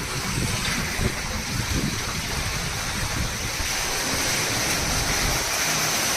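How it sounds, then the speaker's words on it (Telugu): Rainwater gushes into an underground storage sump as a loud, constant rushing pour with a deep turbulent roar, steady throughout with no pauses. "ఈ సంపులో ఫుల్ గ్లేడ్స్ వాటర్ వస్తూ ఉంది. చూడండి, ఇంత ఇంత ఇంత వాల్యూమ్ వాటర్ వస్తుంది."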